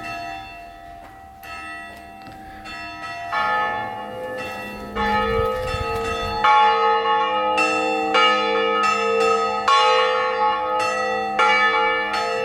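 Church bells ring out in a steady, overlapping peal, rich tones layering and sustaining, fairly loud and continuous.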